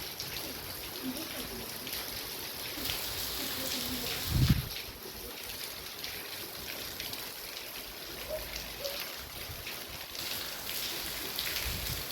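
Steady hiss of rain pouring down with dripping streams, continuous and fairly loud, with a brief thump partway through.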